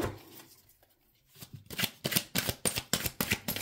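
Lighthouse Tarot cards being shuffled by hand, starting after a quiet pause and then a quick run of crisp, riffling card slaps, close and moderately loud, with no talking.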